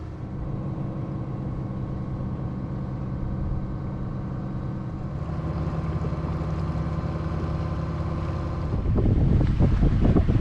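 A sailboat's motor drones steadily at an even pitch, running at about 2,000 revs, with wind buffeting the microphone and rushing louder toward the end.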